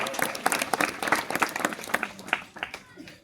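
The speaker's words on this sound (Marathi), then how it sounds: "त्यांच्याबद्दल एकदा जोरदार टाळ्या वाजवा" An audience at a devotional kirtan gathering claps together in a brief burst of uneven, crowded applause, fairly close and lively, with claps thinning out toward the end.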